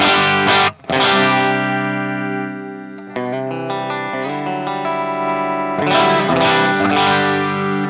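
Electric guitar played through a NUX amp-modeling pedal with master and drive turned all the way up, giving heavily distorted, sustained chords and single notes, loud and close with a brief gap early on.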